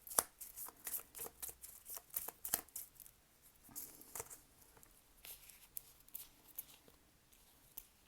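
Small handmade tarot cards are shuffled close by in quick, crisp bursts of riffling patter that come in uneven runs, with quieter gaps between them.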